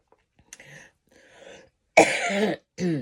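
A few short coughs, then a harsh, loud throat-clearing cough burst and one more rasping cough, close by with brief pauses between.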